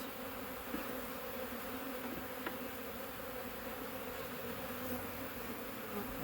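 Honey bees drone steadily inside a hive box during a package versus nuc colony check, a dense continuous buzz with a few faint knocks of frames being handled.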